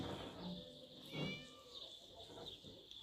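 A pet cat meows a few times, soft and fairly distant, over a quiet indoor background.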